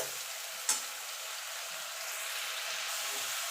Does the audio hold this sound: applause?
no